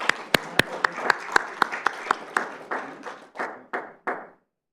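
A small city council audience gives a quick round of applause, distinct sharp claps at first that soften and thin out into a few scattered ones before stopping.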